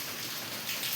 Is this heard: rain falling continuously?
yes